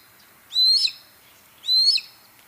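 A Harris's hawk gives two separate harsh, rasping calls, each about a third of a second long and spaced roughly a second apart. They are fairly clear against a quiet background with no voices.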